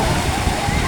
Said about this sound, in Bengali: একটার পর একটা 10 সেকেন্ড পর পর একটা করে ঢেউ আসে।